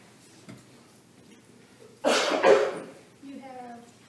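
A single cough bursts out in a quiet courtroom, loud and close, with a harsh double push at the start, then a short trailing throat sound and a faint voice afterward.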